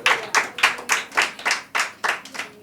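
Hands clapping at a prayer meeting, about ten sharp claps in a steady, slightly uneven rhythm, close and fairly loud, with no talk over them.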